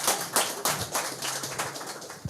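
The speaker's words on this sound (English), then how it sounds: "You can clap." Scattered clapping from a debate audience in Nakuru: a handful of separate, uneven hand claps and taps at moderate distance, sparse rather than full applause, with no speech over them.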